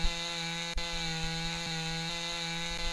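Chainsaw felling a tree in the video game Lumberjack's Dynasty: a steady, loud buzzing drone runs throughout with a strong low hum and bright overtones, briefly broken by a sharp crack.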